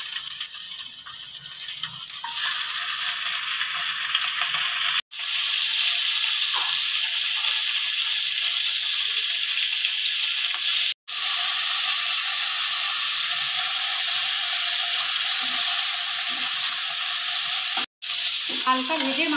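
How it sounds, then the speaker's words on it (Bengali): Hilsa fish heads frying in hot mustard oil in a pan, a loud, steady close-up sizzle and crackle broken by three brief dropouts; no one speaks. "এবার আমি ইলিশ মাছের মাথাটা এখানে দিয়ে দিচ্ছি ভেজে নেবার জন্য"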